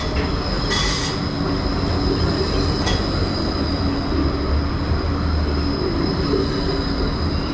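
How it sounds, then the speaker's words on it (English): A tram in Surfers Paradise, Gold Coast, Australia, rolls past with a steady low rumble and a high metallic wheel squeal, plus a couple of brief clanks along the way. "So that's a tram here."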